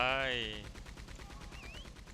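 Gunfire in the Red Dead Online video game, a quick run of rapid shots rattling over a low background, with a brief voice at the start.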